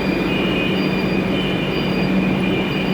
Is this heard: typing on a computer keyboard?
no